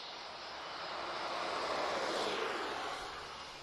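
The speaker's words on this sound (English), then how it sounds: "So United Airlines is just pushing back." A United Airlines Boeing Dreamliner jet pushing back at Lisbon Airport gives off a steady broadband engine roar that swells to a peak midway and then eases, heard from a distance with no talking.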